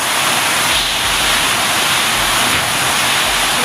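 Heavy rain pours steadily as water floods into a house, a dense, continuous rushing hiss that stays loud and even throughout with no voices.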